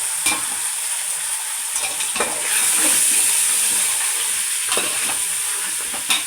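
Washed mutton, about 1.5 kilos, dropped into hot oil with softened onions and green chillies for a Rayalaseema-style curry, a loud continuous sizzle close up with stirring scrapes and bursts of crackle.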